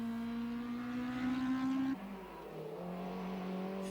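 A Toyota four-wheel-drive rally car on stage 1 revs hard, its engine note climbing steadily, then drops abruptly as the driver lifts off and settles back into a lower, steadier drone, loud and close without any voices.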